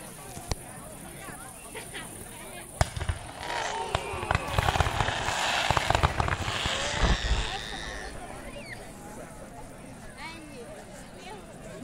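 Fireworks display in Székesfehérvár, Hungary: a series of distant bangs and crackling bursts, thickening into a dense volley midway before thinning out, with voices talking underneath throughout.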